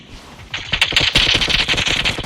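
Rapid automatic gunfire in the mobile battle royale game PUBG Mobile, a fast rattling burst that starts about half a second in and continues steadily and loudly to the end, with no talking over it.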